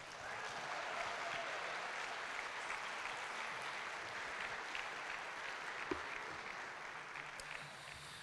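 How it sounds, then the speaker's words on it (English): A concert audience at a university band's 100th anniversary performance applauds composer Scott McAllister, an even wash of many hands clapping, soft and distant, steady from start to finish. "Can we give him a round of applause?"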